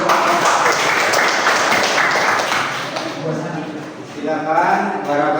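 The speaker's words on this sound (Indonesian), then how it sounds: "Beri tepuk tangan." Classroom students clap together as a group, a dense burst of applause that fades as a voice starts talking over the last stretch.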